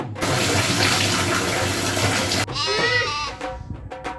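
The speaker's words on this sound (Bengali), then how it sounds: "আরে ভালো করে কাপড়টা খুলে ধো।" Water runs and splashes steadily as clothes are hand-washed with detergent, a loud continuous wash for about two and a half seconds, then breaking into sloshing and wringing noises with a few sharp bleat-like squeaks.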